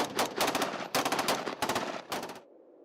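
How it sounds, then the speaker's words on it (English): Rapid bursts of gunfire rattle through the night in four loud volleys, each a quick string of shots, followed by a fading echo. "the bone-chilling echoes of gunfire tearing through the heart"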